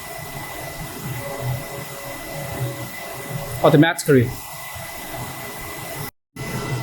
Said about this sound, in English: So now the printer starts to do the head cleaning